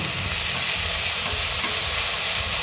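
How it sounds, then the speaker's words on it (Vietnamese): Tofu frying in a pan as sauce is poured in gives a loud, steady, dense sizzle with crackling throughout, close by and without any talk. "Rồi mình sẽ cho cái nước sốt vô nha."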